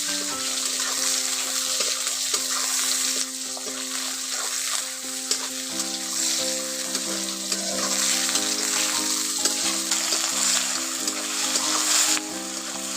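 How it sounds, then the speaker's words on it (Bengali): Chopped tomato and onion sizzle steadily in hot oil in a pan while being stirred, a dense continuous hiss with occasional scraping, close and alone without speech. "টমেটোর কুচিটা পেঁয়াজের সঙ্গে একটু ভেজে নিচ্ছি।"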